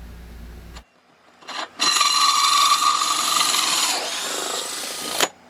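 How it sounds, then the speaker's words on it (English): A drill with a hole saw cuts through an RV wall of wood and styrofoam: a brief start, then a steady grinding whir for about three seconds that shifts in tone before stopping. "you can turn the drill in forward and then cut the rest of the way through the wood"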